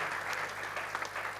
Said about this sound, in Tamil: ஒரு முறை நீங்கள் கைதட்டி ஆரவாரம் செய்து அவருக்கு சிறப்பு செய்ய வேண்டும் என்று கேட்டுக்கொள்கிறேன்